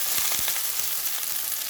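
Onions sizzle and sauté steadily in a hot pan, a close, constant crackling hiss broken by a few soft stirring taps.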